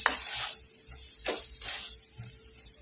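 Tuvar (pigeon pea) kachori filling with salt and a pinch of turmeric being stirred and roasted in a pan, giving soft scraping strokes and a faint sizzle, fairly quiet and close, with no talking.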